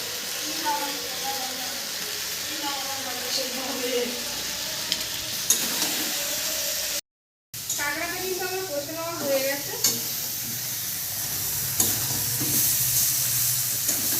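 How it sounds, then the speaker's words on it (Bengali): Crab and potato pieces frying in a pan and stirred, a loud sizzle with scraping stirs and hissing steam; someone talks over it, then a brief silent gap before the frying resumes. "এবার আমি আলু আর কাঁকড়াটা একসঙ্গেই দিয়ে দেবো"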